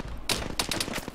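Rapid machine gun bursts in a first-person shooter video game, several loud clusters of shots rattling in close succession with no talk over them.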